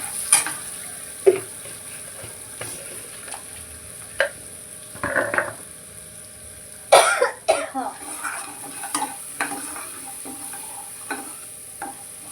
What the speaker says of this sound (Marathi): अजून जरा भाजून घेऊया आता मसाला भाजलाय